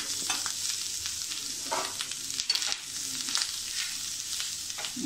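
Onion and coconut dry-roasting in a pan over medium heat, a continuous close crackling sizzle with frequent scraping stirs of a spoon.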